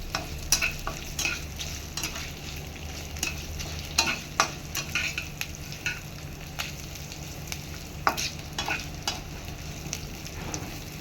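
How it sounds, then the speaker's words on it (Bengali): A spoon repeatedly scrapes and stirs fritters made of masoor dal frying with rice in a pan, giving irregular knocks and clatters over a steady, close sizzle. "ভাজা হয়ে গেছে, এবার মশলাগুলো দেওয়ার আগে একটু নেড়ে নেবেন"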